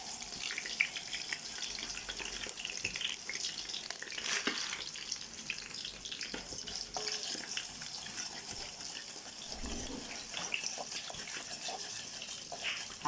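Orzo (lisan asfour) frying in hot oil in a pot, a steady crackling sizzle with soft stirring and scraping, continuous and close throughout, no talking.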